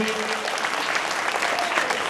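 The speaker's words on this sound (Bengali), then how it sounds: "আমরা প্রত্যেকেই পল্লবীর জন্য জোরে হাততালি দেব।" An audience applauds a prize winner at a school golden jubilee programme, with dense, steady clapping that fills the whole stretch at a constant, fairly loud level.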